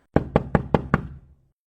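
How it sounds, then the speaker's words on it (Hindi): Five sharp, evenly spaced knocks on a door in a Hindi-language animated cartoon, loud and close, fading out quickly with no talking. "रात में महिला आश्रय में मदद पाने के लिए दरवाजा खटखटाती है"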